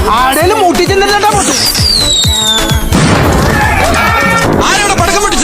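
Loud bursts of firecracker blasts inside the mobile battle game BGMI, a rapid run of sharp bangs tangled with game music and voices talking over them.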